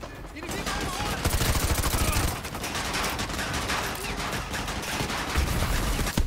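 Call of Duty gunfire during an attack in Kasbah, dense continuous automatic fire and crashing shots throughout, loud and close, with voices talking over the battle.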